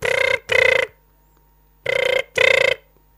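Telephone rings twice in two double bursts, loud and close, with a long pause between, left unanswered; no voices.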